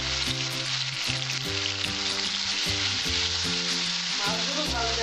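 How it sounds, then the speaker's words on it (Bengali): Prawns fry in oil left in a pan after frying potatoes, a loud, continuous close sizzle with steady crackling and no talking over it. "এই তেলটার মধ্যে আমি মাছগুলো ভেজে নেব।"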